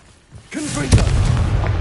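A Confringo blasting spell goes off in Hogwarts Legacy on PS5: a quiet start, a brief voice, then a loud booming blast with a sharp hit midway and rumbling tail.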